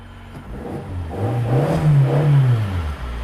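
A small, worn-out beater car's warmed-up engine revs up steadily, rising and holding a strong throaty drone before easing back slightly, close and loud with no talking.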